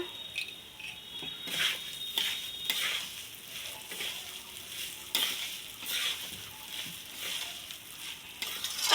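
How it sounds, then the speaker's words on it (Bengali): Spices frying with ghee in a pot for meat khichuri, a soft continuous sizzle with repeated scraping stirs, fairly faint and close. "এই যে মশলাটা দিয়ে দিলাম, এবার মশলাটা দিয়ে একটু কষাবো।"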